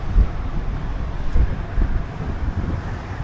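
Strong wind buffets the microphone near the Ngong Ping 360 cable car by the sea, a continuous low rumble with gusty thumps.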